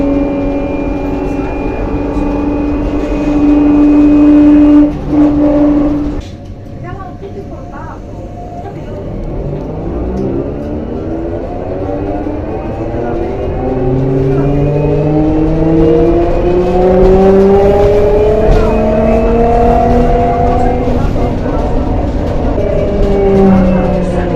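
Ride aboard a tram bus in Venice, its electric motor whining up and down through accelerating and slowing tones, steady close cabin rumble, with people talking over it.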